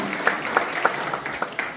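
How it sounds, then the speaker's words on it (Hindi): An audience at a game-show-style event applauds in a short burst of brisk, scattered clapping, fairly close and lively. "सभी के लिए जोरदार तालियां।"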